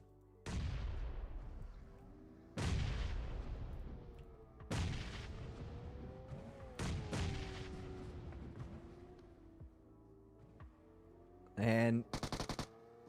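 Grenade explosions and gunfire in a tournament grand-finals video game match: several loud booms and crackling gunfire spread across the stretch, ending in sharp, close bursts, with a voice talking underneath.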